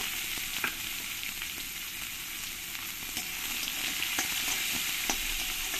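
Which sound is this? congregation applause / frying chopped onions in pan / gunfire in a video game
frying chopped onions in pan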